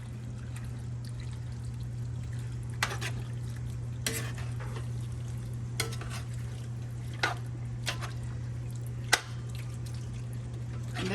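Cajun seafood dressing is mixed by hand in a bowl, with soft wet squelches and occasional sharp scrapes and clacks of the utensil over a constant low hum, no voices.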